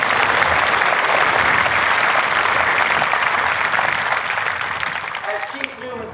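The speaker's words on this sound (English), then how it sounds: "So let's give them a big round of applause, please." A large crowd applauds outdoors at an Air Force basic military training parade, a dense, loud, sustained clapping that gradually thins and fades toward the end.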